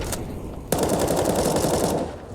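Counter-Strike gunfire: a short single shot followed by a sustained rapid burst of automatic fire, close and loud, cutting off abruptly.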